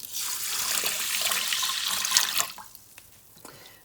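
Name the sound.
water poured into Instant Pot with millet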